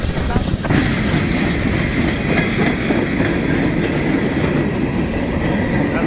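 A freight train rolls steadily and loudly past up close, its wagons rumbling with continuous rail noise, and a pusher locomotive runs at the rear. The setting is Dorval in Montreal in the evening.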